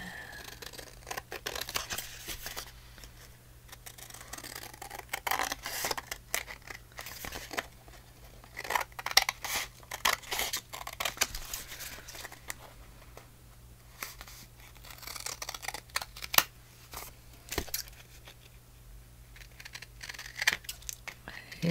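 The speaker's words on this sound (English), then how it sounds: "We're going to trim around it." Scissors trimming around a paper Christmas journal card, with repeated soft snips and paper rustles at close range and quiet talking in between.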